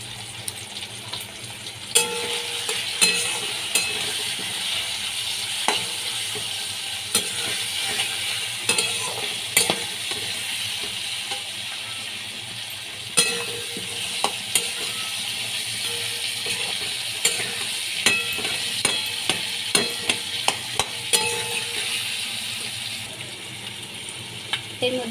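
Hilsa fish fries in hot oil with turmeric powder, a steady sizzle running throughout, punctuated by repeated clinks and scrapes of a utensil stirring in the pan.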